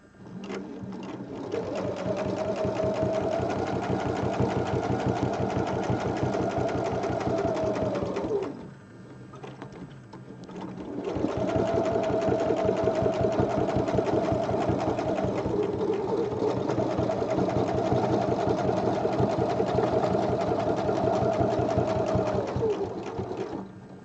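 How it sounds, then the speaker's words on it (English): A sewing machine stitches sideways across fabric for an angel wings pattern, running in a loud steady whir, pausing briefly near the middle, then resuming for two long continuous runs with no talking. "So we're just going to stitch sideways."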